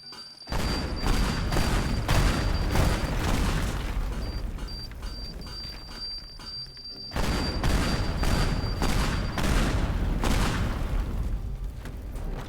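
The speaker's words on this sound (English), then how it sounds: "We have bombs. Let's use the bombs." Bombs detonating in the voxel destruction game Teardown, a rapid string of heavy booming blasts with crumbling debris that rolls on for several seconds, breaks off briefly, then resumes in another dense volley, loud and close.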